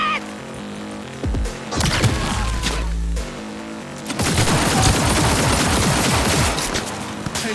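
Gunfire in Cyberpunk 2077, dense bursts of automatic shots and rapid fusillades alongside crashes and impacts, loud and close, with a brief pause between volleys.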